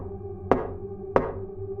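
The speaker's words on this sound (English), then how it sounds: "there were 3 gentle, spaced-out knocks." Two gentle, evenly spaced knocks sound on a door, each a sharp single rap, set against a low sustained background drone with no voices.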